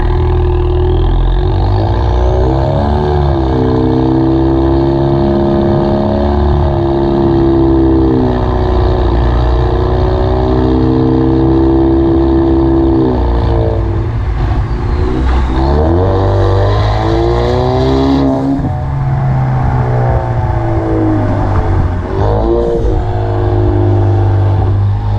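Tuned 2018 Ford Mustang EcoBoost with a 10-speed automatic and catless exhaust, a steady loud engine drone that swells as revs rise and dip, close and continuous with no talking.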